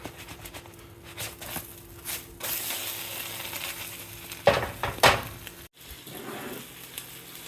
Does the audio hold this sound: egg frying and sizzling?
yes